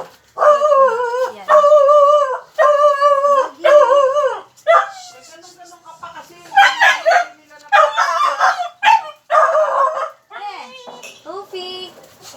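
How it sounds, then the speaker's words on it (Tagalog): Several dogs barking and howling in a rowdy burst, loud harmonic yelps and drawn-out howls repeating in quick succession, close and alone with no talk over them. "Ganyan na mga aso na yun, magugulo yan."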